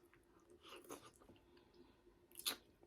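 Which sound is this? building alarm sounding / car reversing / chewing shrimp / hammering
chewing shrimp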